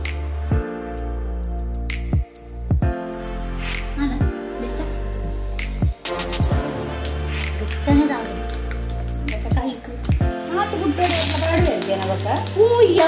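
A tadka tempering of spices in hot oil sizzles in a pan at home, a hissing fry that builds toward the end, under steady tonal background sound and voices.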